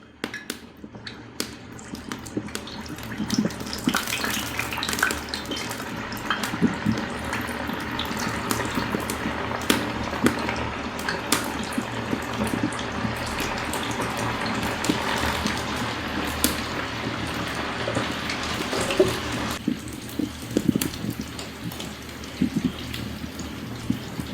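Unniyappam batter fries in hot oil in a pan, giving a steady, dense crackling sizzle that runs unbroken at moderate loudness for the whole span, with no talk over it.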